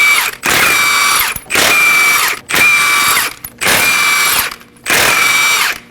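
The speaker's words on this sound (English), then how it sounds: "we're going to go ahead and remove the lug nuts" A power tool with a 21mm socket spins off the front lug nuts of a 2017-2024 Nissan Armada, five loud whirring bursts, each about a second long, separated by short pauses.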